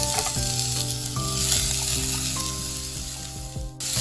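Cabbage and carrot sauté in a hot pan, giving a steady close sizzle throughout with a few soft stirring knocks and no talk.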